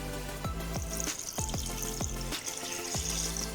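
About 750 ml of water is poured into a pot for bamia sauce: a soft, quiet splashing and trickling with a few light knocks, heard close up.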